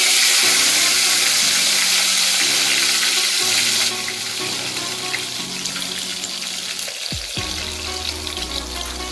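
Dried red chillies frying in hot oil with cinnamon and fennel, a loud steady sizzle that drops sharply partway through as the chillies hit the oil, followed by a brief clatter and continued crackling.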